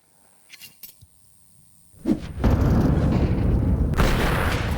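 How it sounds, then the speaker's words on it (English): A single sharp AWP sniper rifle shot cracks out in Counter-Strike 2 after a few faint clicks, followed at once by a loud, sustained wash of noise. "Bang, good shot. Nicely done from the AWP on the CT side."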